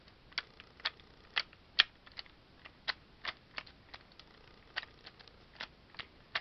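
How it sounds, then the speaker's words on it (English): Toggle switches inside a power armor arm click in a quick irregular series of sharp, faint taps, about twenty of them, spaced unevenly over a quiet background. "you can actually hear the toggles clicking in there"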